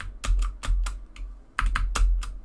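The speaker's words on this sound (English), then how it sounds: "I know you guys probably just hear keyboard a lot" Computer keyboard typing during Minecraft parkour play: quick bursts of close, crisp key clicks in uneven clusters with short pauses, loud and alone without any talk.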